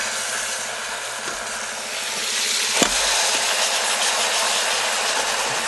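Pork searing in an Instant Pot, a steady loud broadband sizzle and crackle with a brief clunk partway through, no voices.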